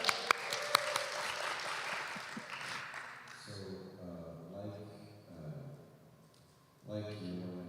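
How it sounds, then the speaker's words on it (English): Conference audience applause for the tech team rings out loudly with sharp individual claps, then fades as a voice begins talking over the dwindling clapping. "Round of applause for the tech team"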